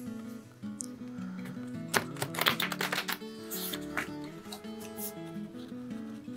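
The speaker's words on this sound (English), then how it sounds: "I'm going to shuffle it a couple times." A fresh, slightly sticky deck of playing cards being shuffled, with a quick riffling burst of dense clicks in the middle framed by softer handling, close up and with no talking.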